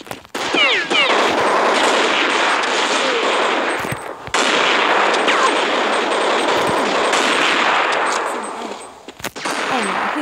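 Constant gunfire and combat noise from a Counter-Strike 1.6 round played on an Android 4.4.2 device, loud and dense throughout with only brief dips.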